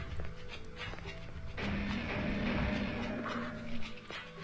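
Dogs in the video game Shadow Man bark and whimper in a busy, dense game soundscape, with growling and yelping over a rumbling background at moderate loudness.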